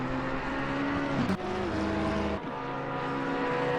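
Porsche and McLaren race cars in Assetto Corsa Competizione at Monza, engines howling at high revs with a sharp gearshift drop and a second downshift as they brake, loud and close.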